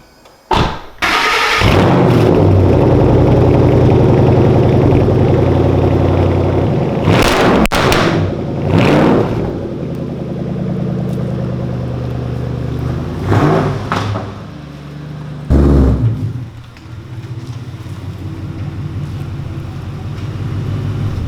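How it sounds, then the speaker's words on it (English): A Ford Shelby GT500 cold start: a loud engine roar that stays high and steady, broken by a few sharp door-like bangs, then settles toward a lower idle. "I'm gonna go ahead and give you guys a cold start on the Shelby"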